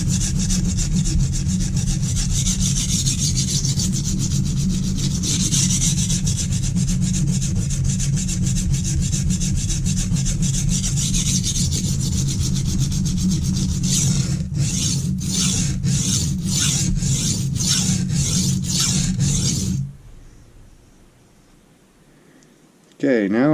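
A chef knife drawn across a Norton Crystolon combination oil stone, a steady run of rapid, rasping back-and-forth strokes that break into distinct separate passes before stopping, with a voice talking over it.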